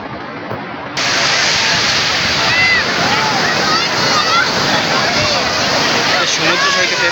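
Big sea waves break on the beach at Cox's Bazar, a loud, continuous washing roar that swells in after a brief quieter moment, with people talking nearby underneath.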